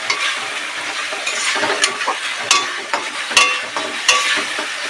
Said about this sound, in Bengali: টমেটো মশলাটা ভালো করে কষিয়ে নিই।